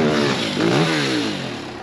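A motorcycle engine gives a short throttle blip, the revs rising and falling in one loud, close, buzzing surge before easing back to a steady idle.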